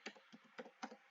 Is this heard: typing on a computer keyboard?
yes